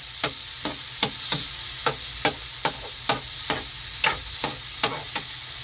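Tofu frying in a pan, a steady broadband sizzle punctuated by regular sharp scrapes or taps of stirring about twice a second, close and alone with no talk.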